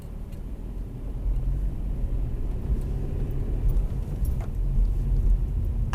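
A car pulls away on a hill start during a driving test around Harlestone, Northampton, a low steady engine rumble building gradually from inside the cabin, with faint road noise and no talk.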